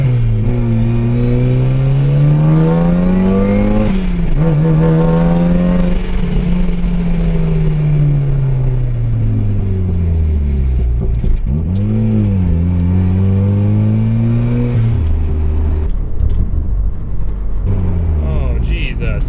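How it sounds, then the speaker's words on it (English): Car engine revving and accelerating loudly throughout, its pitch rising and falling as the driver repeatedly brakes to bed in Wilwood 6-piston big brake kit; continuous near engine drone with voices talking over it. "Gradually braking to warm the brakes up, and then eventually I'll get harder and harder on them."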